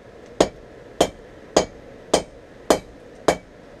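A hammer strikes a hot cable damascus knife blank during forging, six sharp metallic blows evenly spaced about every half second, loud and close with no voices.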